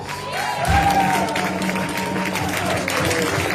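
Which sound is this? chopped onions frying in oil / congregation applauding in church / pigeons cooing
congregation applauding in church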